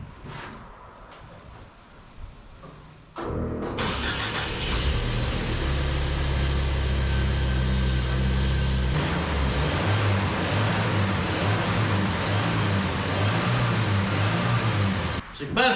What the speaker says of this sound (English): Bet it'll crank easier if we put that wire back on the starter.